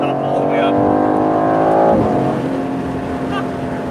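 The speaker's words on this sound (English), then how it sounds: "Sorry for all the extra wind noise, guys. It's just because I didn't get the top up." Steady broadband wind rush inside a 2021 Aston Martin Vantage Roadster driving with its soft top not fully closed, mixed with a humming engine drone that dips briefly midway, continuous and fairly loud throughout.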